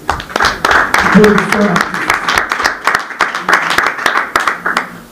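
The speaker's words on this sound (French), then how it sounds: "Nous allons applaudir pour lui." Scattered audience clapping at a press conference honoring a Congolese music star, uneven and moderately loud, with voices talking underneath.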